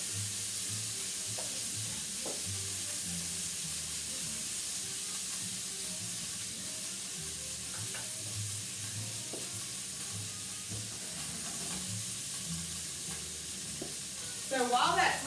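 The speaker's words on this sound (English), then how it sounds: "make a nice little sizzle." Steak sears in a hot pan with a faint, steady sizzle and hiss, broken by occasional soft clinks and a brief louder stir near the end.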